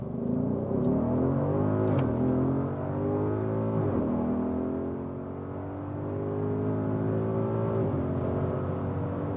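A 2021 Audi SQ8 SUV with a V8 petrol engine accelerating hard through the gears, its engine note rising steadily and then dropping sharply at each of several upshifts; a loud, continuous roar heard from inside the car, with no talking.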